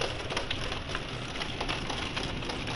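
Hail falling outdoors picked up through a gaming headset microphone, a dense steady hiss of pattering impacts that holds constant and fairly loud throughout, with no talking.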